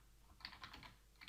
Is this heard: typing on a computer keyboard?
yes